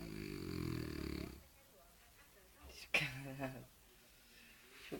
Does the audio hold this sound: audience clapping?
no